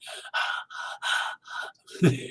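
A man imitates laboured breathing, giving a series of five or six short, raspy gasping breaths in a halting rhythm, close and fairly loud, ending on a rougher, voiced gasp.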